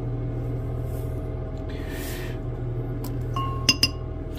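A teaspoon of salt is dropped into a glass for gold recovery from gold-plated pins with citric acid and hydrogen peroxide. Two sharp, close glassy clinks ring out near the end over a steady low hum.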